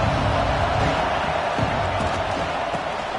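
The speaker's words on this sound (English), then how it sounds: "This crowd ready to make its presence known" A football stadium crowd at an Arkansas versus USC game roars in a steady, dense wall of cheering that stays loud and unbroken throughout.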